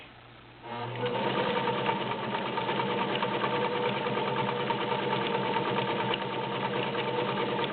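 After a brief quiet moment, a vintage Penncrest domestic sewing machine starts stitching a zigzag pattern, giving a loud, steady, rapid whirring clatter up close.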